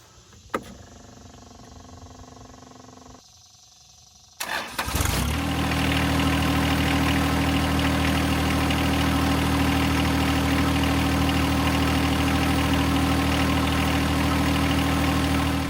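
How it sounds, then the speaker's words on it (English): John Deere 1025R compact tractor with a power problem cranks and starts after a brief quieter stretch, then settles into a loud, steady close idle that runs on without talk. "I'm not going to leave this tractor running the whole time"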